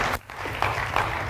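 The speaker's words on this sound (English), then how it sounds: "Let's give God a clap offering" Church congregation giving a clap offering, a short burst of clapping with a brief dip and a few sharper claps near the end, loud and close.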